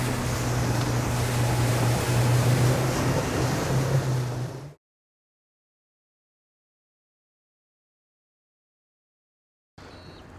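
A 16-foot Bayliner Element with a 75 hp Mercury four-stroke outboard running on the water, a steady engine drone with wind and spray for several seconds, then silence before a brief return.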